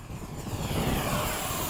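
A Hobby King 70mm Skysword RC jet flying at a model airfield gives a steady, fairly faint whooshing ducted-fan roar that swells slightly as it passes, with no voices.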